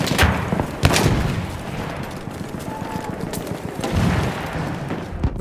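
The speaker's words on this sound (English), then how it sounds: "There's a machine gun." Machine gun fire in the video game Battlefield 1, on Cape Helles: continuous rattling bursts mixed with heavier booms and distant battle noise, loud and dense throughout.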